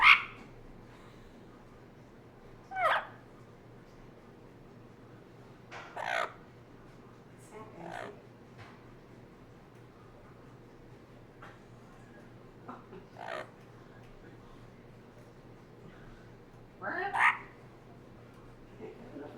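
A parrot gives sparse, harsh calls outdoors, a handful of short squawks spread out with long quiet gaps, moderately distant over a faint steady background drone.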